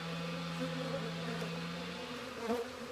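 Dense, steady buzzing of many honeybees inside an open beehive during a March beeyard check, heard up close and continuous with no talk.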